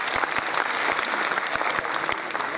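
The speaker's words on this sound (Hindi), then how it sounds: "जोरदार तालियों से स्वागत।" Audience applause welcoming a guest of honor at a formal university function, brisk crowd clapping with a few sharp individual claps standing out, steady and fairly close for the whole short stretch.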